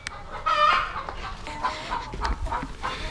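Chickens on a Mexican organic farm clucking and murmuring close by, a steady run of soft clucks with a few louder calls, continuous over the short stretch.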